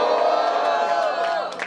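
Crowd at a freestyle rap battle cheering and shouting loudly, a dense sustained roar of voices that fades slightly near the end.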